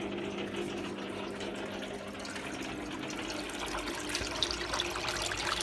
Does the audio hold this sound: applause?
no